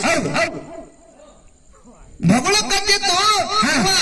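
A person makes barking noises with their voice, a few yaps, then a pause, then a quick run of louder imitated barks.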